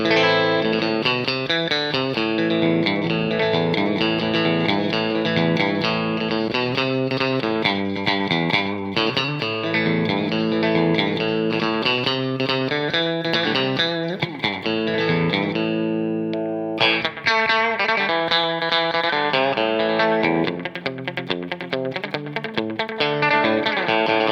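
Bright, thin Fender Jaguar electric guitar with its bass-cut switch engaged, little low end, plays surfy chords and runs, ringing with effects, steady and unaccompanied by talk.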